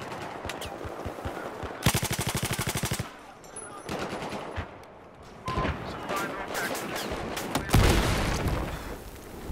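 MG4 machine gun firing in Battlefield 4 during a night operation, with loud rapid automatic bursts, a long sustained burst early on and more bursts later, mixed with other gunfire and explosions.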